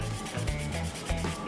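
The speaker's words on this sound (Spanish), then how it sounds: "Así que vámonos a lijarlos muy bien." Sandpaper rubs back and forth over small wooden craft animal figures being prepared for paint, a steady close scraping with rhythmic strokes, no talking.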